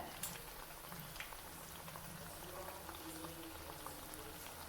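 Potato bajji fry in oil with a faint, continuous bubbling sizzle and small irregular pops, quiet and close, with no talking.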